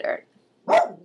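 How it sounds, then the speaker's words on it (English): A pet dog gives two short barks indoors, sharp and fairly close, separated by a brief pause. "that's my dog."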